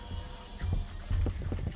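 Arthur Morgan's horse in a video game, a few heavy low hoof thuds and snorting bursts over steady game ambience, with no speech.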